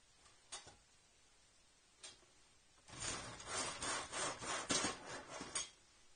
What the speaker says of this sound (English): I'll use an old handheld miter box